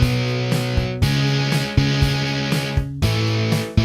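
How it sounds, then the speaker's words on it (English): A GarageBand electric guitar with the drive turned up plays a distorted, repeating riff of sustained chords, with clear attacks roughly every half second and no voices. "I'm going to turn up the drive here."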